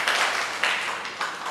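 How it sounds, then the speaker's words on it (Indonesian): A church congregation claps in applause: a dense, steady wash of many hands clapping together, with a few louder swells, lasting only a moment. "Tepuk tangan untuk Allah Bapa kita yang ada di surga."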